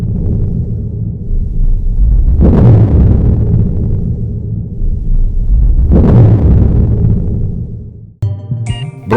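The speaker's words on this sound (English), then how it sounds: "This is the sound of the heartbeat of the pulsar star." A pulsar star's radio signal rendered as sound, giving deep, booming pulses like a slow heartbeat, two big swells about four seconds apart over a steady low rumble, ending with a short tonal snippet.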